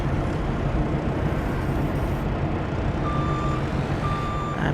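A truck in the video game Farming Simulator 22 gives two steady reversing beeps over a constant broadband engine and machinery rumble, with no talking.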